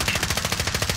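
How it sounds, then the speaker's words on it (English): Rapid automatic gunfire in the shooter game Warzone, a steady burst of evenly spaced shots for about a second, loud and close, with no talk. "That's you shooting upstairs."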